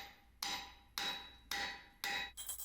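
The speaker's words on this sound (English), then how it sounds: "we're going to take a square drift punch and we're going to square up the hole" A square drift punch hammered through a round hole in an iron plate to square it for a carriage bolt head: four sharp, ringing metallic strikes about half a second apart, close and loud, followed by a quicker clatter.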